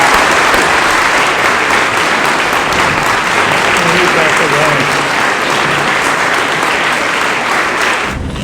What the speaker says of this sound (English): Please join me in giving Mr. Audette a round of applause